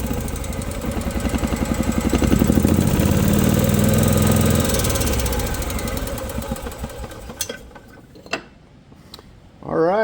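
A 2018 EZGO golf cart engine running rough chugs loudly and unevenly up close before fading down, followed by quieter mechanical clicks and a few clanks, with people talking nearby.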